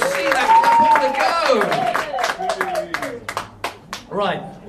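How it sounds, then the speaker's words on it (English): A small crowd claps and cheers for Luke and Sonic at a village show, with scattered bursts of hand claps mixed under loud excited voices and whoops close by. "a big round of applause for Luke and Sonic"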